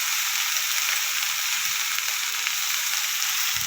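Okra fries in a pan with turmeric, chili powder and salt, producing a constant, even, close sizzle that stays steady throughout with no talking.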